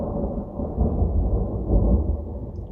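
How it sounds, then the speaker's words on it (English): Thunder rumbling outside during a lightning storm, a deep continuous low roll with two swells in loudness, muffled and distant with no voices. "It's thundering and lightning right now,"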